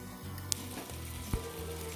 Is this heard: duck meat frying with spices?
yes